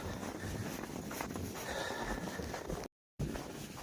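Horses being led home make several whinnies against continuous background noise, with faint hoof clip-clop. A brief dropout of near-silence breaks the sound near the end.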